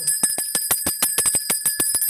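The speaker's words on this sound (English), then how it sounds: "We got to ring that victory bell." A victory bell rung rapidly over and over, about a dozen bright, evenly spaced strikes that ring on loudly for two seconds, with no talking.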